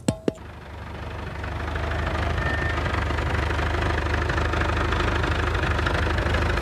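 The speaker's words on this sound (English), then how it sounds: "The block gets an elevator ride to the top of the cathedral." A cathedral elevator hoists a heavy stone block toward the top, its motor droning with a steady low rumble and hum after two sharp clanks at the start, loud and continuous without talk.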